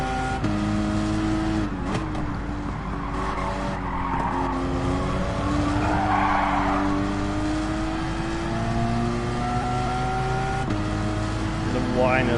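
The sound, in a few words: turbo whine of a race car in Gran Turismo 7 video game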